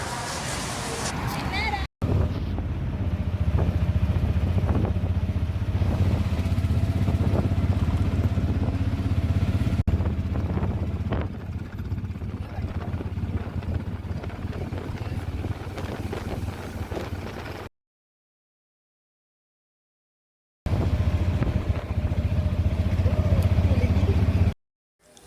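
A passenger rides in an auto-rickshaw in Kerala, and the engine runs with a continuous rumble under strong wind buffeting and rattling. Voices come and go, and there is a brief silent gap before the roar returns.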